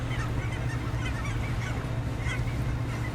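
A few geese honk overhead in the fishing game Dredge, soft intermittent calls set against a prominent low droning hum and watery ambience.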